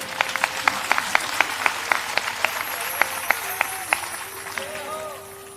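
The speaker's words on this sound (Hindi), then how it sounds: "थोड़ी धीरे बजाओ, ताली ज्यादा बजा रहे हो।" Audience clapping at a satsang religious gathering: a steady run of sharp, separate hand claps at a moderate rhythm, fairly close, that thins out toward the end as a voice and a background hum continue.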